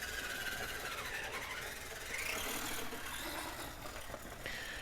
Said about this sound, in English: Boy, that gearbox sounds a lot better now. It's so much smoother.